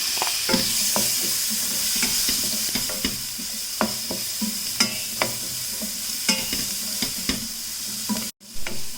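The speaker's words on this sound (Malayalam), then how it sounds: "ഈ സവാളയും കൂടി ഇതിലേക്ക് ഇട്ട് കൊടുക്കാം." Chopped onion sizzling in hot oil in a frying pan, with a steady bright hiss under regular clinks and scrapes of a spoon stirring, close and loud, no talk.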